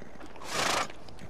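A horse neighs briefly in a Spanish-language video game, Beyond: Two Souls, a short whinny rising over a quiet background with no talk.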